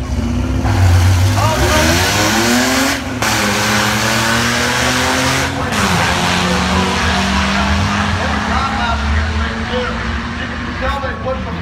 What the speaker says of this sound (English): In the right-hand lane, the blown V6 gutted Thunderbird. And in the left-hand lane, the world's worst Nova.